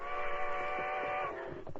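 A steady multi-tone train whistle from a radio-drama train effect sounds loud and close, holding for about a second and a quarter before fading into rumbling movement as the train starts off.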